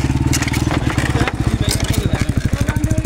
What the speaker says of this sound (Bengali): দেখছেন বন্ধুরা মোটর সাইকেল কেমনে নিয়ে আইতাছে